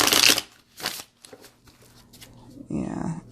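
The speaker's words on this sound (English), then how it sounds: "let's see how it shuffles" Riffle shuffle of a brand-new, slightly stiff tarot deck: close, crisp bursts of card flutter, a long one at the start and another at the end, with quieter handling and a voice in between.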